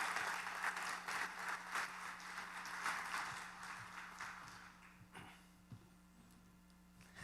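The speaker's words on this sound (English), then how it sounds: "Let's have a warm round of applause for him." An audience at a summit in Miami applauds a speaker, a sustained wash of clapping that starts full and gradually thins and fades toward the end.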